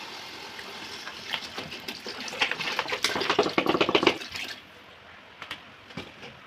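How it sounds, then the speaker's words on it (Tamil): Water is poured from a bottle into masala gravy for biryani, a splashing gush that builds in the middle, then trails off into a few faint drips. "இப்போ இந்த ஸ்டேஜில் வந்து தண்ணி ஊற்றணும்."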